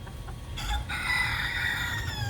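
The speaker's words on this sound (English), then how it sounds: "this is the resident rooster. He's saying goodbye from Key West." A rooster at the Key West lighthouse in Florida lets out a long, loud cock-a-doodle-doo close by, over faint outdoor background noise, with no talking.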